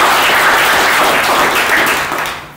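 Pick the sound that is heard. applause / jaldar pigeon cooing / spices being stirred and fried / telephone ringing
applause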